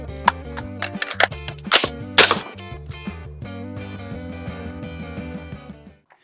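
A series of suppressed gunshots rings out in quick succession, sharp cracks scattered across a steady musical background, a few standing out louder than the rest.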